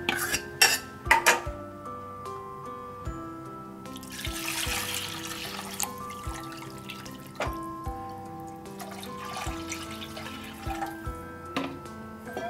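Strained liquid from ground beetroot masala soup ingredients is poured into a pressure cooker, with clinking utensils and dish sounds, soft splashing and dripping water close by, no talking.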